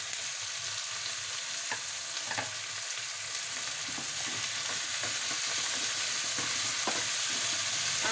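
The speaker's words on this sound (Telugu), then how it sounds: "మునక్కాయలు కట్ చేసిన మునక్కాయలు వేస్తున్నానండి" Cut drumstick pieces sizzle in oil with onions and curry leaves, a constant even crackle punctuated by scattered sharp pops and a few light clinks, close and alone with no voices.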